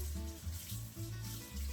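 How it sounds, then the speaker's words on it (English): Sweet potatoes scrubbed with a brush under warm running water from a tap, a soft, continuous splashing and trickling stream with faint scrubbing, brief and fairly quiet. "I have a scrub brush and I'm washing them under warm water"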